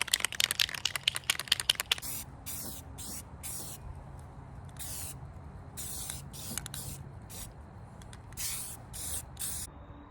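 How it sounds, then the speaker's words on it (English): Aerosol can of rust reformer sprayed onto the rusty underside of a door on an 83 Ford Mustang Fox body, several close hissing bursts of varying length, after an opening run of rapid clicking taps. "spray a little rust reformer on this"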